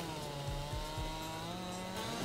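Chainsaw cutting trees in Farming Simulator 22, a loud, steady engine whine with pitch dips and revs as the blade bites, continuous and close.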